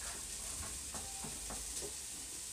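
Quiet stirring of a mixture in a pan for a leek pastry filling, soft scraping strokes over a steady faint hiss, no talking.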